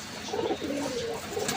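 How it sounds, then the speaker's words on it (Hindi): A pigeon gives soft, low cooing calls in short repeated phrases. The sound is faint and close, with no other sounds competing with it. "ये कबूतर ऐसा क्यों कर रहा है"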